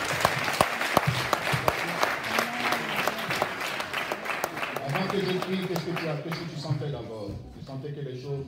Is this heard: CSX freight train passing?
no